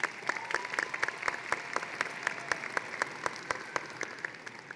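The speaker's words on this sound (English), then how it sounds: "Graduates, please give a round of applause to your family members who have helped you along the way" Graduation ceremony audience applauding graduates' families at a high school commencement in a large hall, with a few sharp, close individual claps standing out over a softer, more distant wash of clapping.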